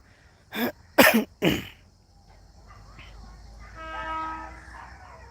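A train on a rail line beside a small village inside a town rumbles with faint tonal whining at a moderate distance in the second half, after three sharp, loud sneeze-like bursts close by.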